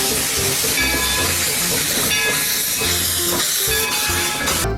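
A toy classic steam train locomotive gives off a steady hissing, chuffing rail sound with a few brief whistle-like tones, loud and close, running continuously with no voices.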